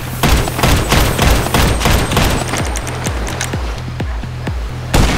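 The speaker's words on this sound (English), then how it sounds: "This dude killed me with a rifle." Rifle fire in GTA Online rattles off as a loud, rapid stream of evenly spaced shots, close and continuous for about five seconds, with no voices.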